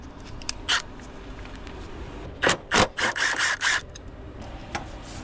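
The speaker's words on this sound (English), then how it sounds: "I'm going to use a long extension with a swivel and a 10mm" A 10mm socket on a long swivel extension turns an AC line bolt on a 2017 Nissan Altima, giving a few short scraping clicks, then a burst of quick ratcheting strokes close by.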